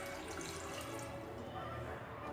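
Water pours into a pot for a chicken pulao, a continuous splashing rush, loud and close, lasting a couple of seconds.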